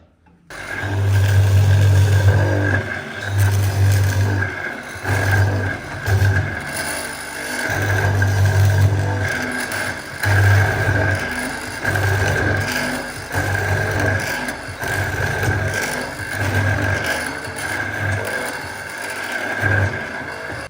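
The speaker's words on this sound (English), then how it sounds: "Then jump onto mortising machine" A mortising machine cuts mortises in wood for a shepherd's hut chassis. A steady motor hum runs under repeated low, chunky bursts as the chisel plunges in a fairly regular rhythm. The sound is close and moderately loud.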